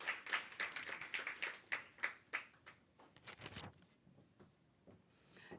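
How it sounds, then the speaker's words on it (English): Faint, scattered applause from a conference audience at a small-business event, a burst of individual claps that thins out and fades after a few seconds. "Let's give a round of applause for Ndate Moss."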